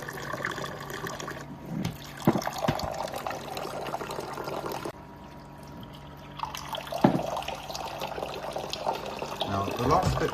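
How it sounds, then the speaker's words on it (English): Water drains and pours out of an Osmio Zero 3.0 water filter system during sanitisation, a steady close splashing flow that runs for most of the stretch, with a person talking at times over it. "it's going to drain itself out"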